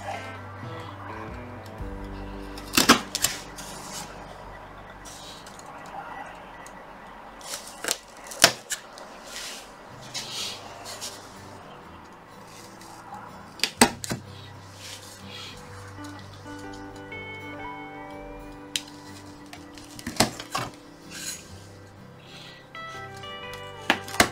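A decent knife cuts a CNC-cut 5mm plywood keel from its board for a Caldercraft HMS Victory model. Sharp clicks and snaps recur among quiet scraping strokes, close and fairly loud, with no talk.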